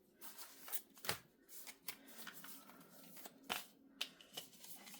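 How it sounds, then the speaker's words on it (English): Tarot cards shuffled by hand at close range, a quiet run of crisp riffling flicks and soft slides with a few sharper snaps, no talking. "I'm going to shuffle a little bit closer to me so I can handle these cards a little bit better."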